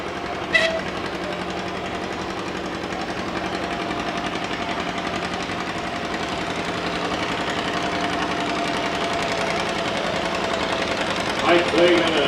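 An antique John Deere B tractor pulling at an old threshers' tractor pull, a continuous loud chugging engine roar with a brief sharp sound near the start and crowd noise rising at the end.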